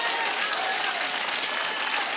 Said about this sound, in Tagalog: Yung palakpak talaga para sa Panginoon